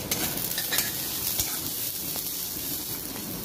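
Chopped onion, green chili and grated ginger fry in mustard oil, an even, dense sizzle with faint stirring clicks over a few seconds.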